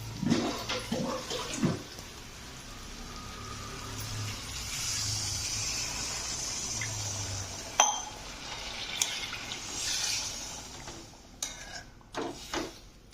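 Water is poured into a pan of oil-cooked masala for patwadi rassa curry, giving a steady splashing fill with scattered clinks of metal cookware and no voices.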